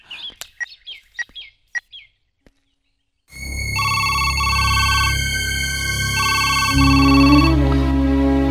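A telephone rings during a call in a Telugu film scene: a few sharp bird chirps come first, then a pause, then a loud electronic ringtone repeats its bright beeping pattern over a low background drone.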